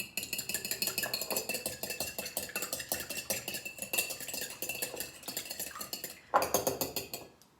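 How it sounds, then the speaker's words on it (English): An egg is beaten in a bowl with a utensil, giving a fast, steady run of close clicking and tapping strokes for several seconds, with a brief pause and a sharper burst near the end. "the first thing I'm going to do is I'm going to beat up the egg"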